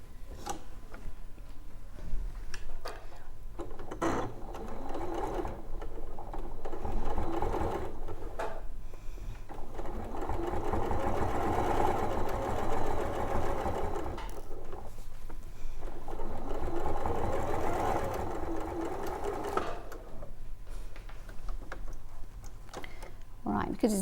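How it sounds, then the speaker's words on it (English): A sewing machine runs a straight stitch along a quilt's middle line, its steady mechanical whir and rapid ticking of the needle continuing for long stretches, with people talking over it in between. "So I'm just going to do a straight stitch right down that middle line."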